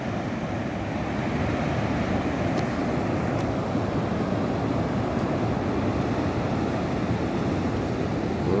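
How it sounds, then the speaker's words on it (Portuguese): Rough sea breaking on the beach at Itanhaém, on São Paulo's south coast, under overcast skies: a loud, unbroken roar of surf with wind, close and steady throughout, with no voices. "E olha o som do mar."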